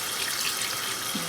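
About one and a half cups of water pour into a cooking pot of potatoes for aloo masala rice, a steady close splashing rush that runs without a break.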